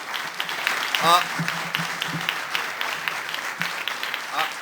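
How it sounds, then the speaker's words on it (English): A crowd applauds with steady scattered clapping, moderately loud, while a voice is faintly heard underneath. "How about a big round of applause for both candidates?"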